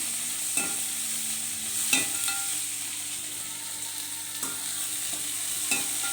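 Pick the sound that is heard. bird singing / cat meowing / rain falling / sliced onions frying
sliced onions frying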